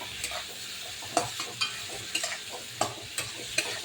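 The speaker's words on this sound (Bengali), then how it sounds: "এবার আমি এই মশলায় ভেজে রাখা আলুটাকে দিয়ে দেবো। দিয়ে এবার নেড়ে চেড়ে" Fried potatoes get stirred into a spice masala for a fish curry, with soft spaced scrapes and clacks of a spoon against the pan over a low, quiet sizzle.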